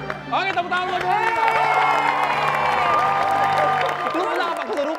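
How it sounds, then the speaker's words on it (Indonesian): A TV studio audience claps and cheers for a contestant on a talent show, a continuous wash of applause mixed with whoops and excited voices. "tepuk tangan buat Doni"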